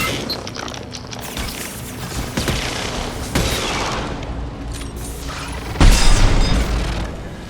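Sustained combat noise from Mass Effect Legendary Edition (Mass Effect 2), dense bursts and booms of gunfire with a heavy impact near the end, loud and continuous.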